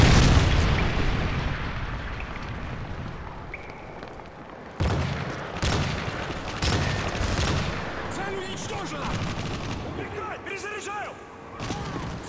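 A Predator missile strike in Modern Warfare 3 multiplayer, with a loud blast around the midpoint among ongoing gunfire and explosions, dense battle noise throughout and voices talking under it.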